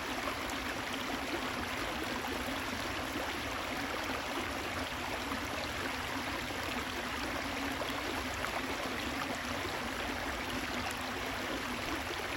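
A stream flows steadily, a constant broadband rush of running water with no breaks and no voices.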